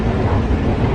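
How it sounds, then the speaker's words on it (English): Subway train in Vienna rumbling steadily along the rails, a loud continuous low-pitched roar with no pauses or speech. "Subway ride number 2."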